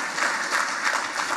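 Brief church congregation applause during a Sunday worship service, a dense, even patter of many hands clapping close by with no pauses.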